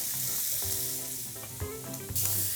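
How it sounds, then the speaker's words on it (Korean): Sliced onion and bacon stir-frying together in a pan for creamy tteokbokki, giving a steady close sizzle with occasional stirring scrapes under a musical backdrop. "양파 썰어놓은 걸 넣고 같이 볶아요."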